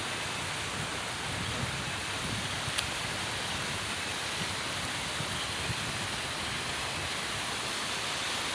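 Steady, even rush of river water flowing, a broad continuous hiss with no talk over it.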